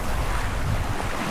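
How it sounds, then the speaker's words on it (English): Fast, cold river water rushing past close by, a steady broadband roar with strong low rumble and wind buffeting on the microphone, no voices. "Wow, and the water's ripping."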